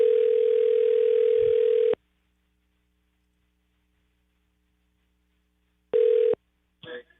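An outgoing telephone call rings out with a long electronic ringback tone, a silent pause of several seconds, then the tone starts again briefly before a short click.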